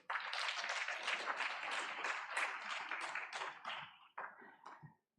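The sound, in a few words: applause at a trade review conference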